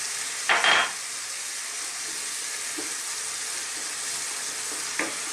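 Onion rings frying in a pan for a Filipino bangus fish steak, a steady close sizzle throughout, with a brief clatter near the start and faint clinks later, no voices.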